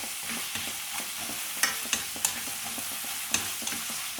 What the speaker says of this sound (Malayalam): ഇഞ്ചി വെളുത്തുള്ളി നന്നായി ചതച്ചെടുത്തത് എല്ലാം കൂടി നമുക്ക് നല്ലപോലെ ഒന്ന് വഴറ്റിയെടുക്കാം